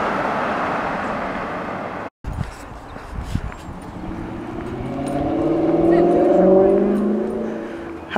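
A car passes by on a road, its engine rising to a loud, close hum in the second half and then fading away. Quieter rustling and knocks come before it.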